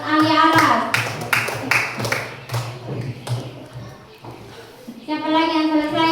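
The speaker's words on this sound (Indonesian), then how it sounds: "Ya, tepuk tangan buat Nur Ali Aras." Classroom of children clapping for a pupil, a burst of quick irregular claps mixed with kids' voices, with a teacher speaking before and after.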